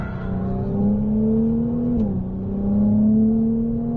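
Ferrari 298 GTB rated at 820 horsepower accelerating on the La Ferté-Gaucher circuit, a steady loud engine drone rising in pitch over four seconds with a brief dip near the middle before climbing again, close to the microphone.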